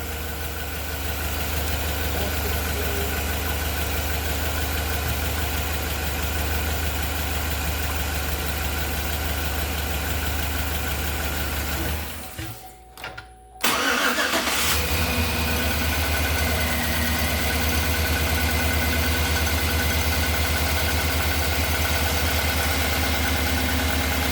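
A 2011 Chevy Silverado 1500 with a rebuilt 5.3 V8 and a DOD delete idles steadily to warm up, close and loud with a constant low rumble. A brief dip and rattle interrupts it midway.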